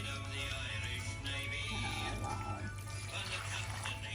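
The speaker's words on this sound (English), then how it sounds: "you take your 400 ml of stock, very gently pour it over" Stock, 400 ml, poured gently over an Irish stew made with Guinness, heard as a continuous soft liquid splashing and trickling against a steady background hiss.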